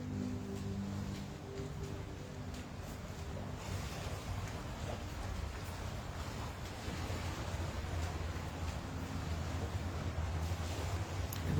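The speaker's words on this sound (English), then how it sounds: "The water does sound really lovely." Water waves lapping outdoors, a steady soft wash of surf mixed with light wind noise on the microphone, continuous and fairly quiet with no voices.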